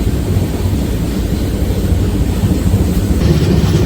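A steady, heavy rumble of a passenger train rolling past nearby, continuous and loud throughout with a dense low roar and no voices, on the Ludhiana–Patiala route.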